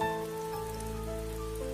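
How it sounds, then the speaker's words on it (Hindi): Steady heavy rain shower hisses continuously under a low droning ambience with sustained tonal hums, creating an even, dense wash of sound. "बारिश की तेज बौछार"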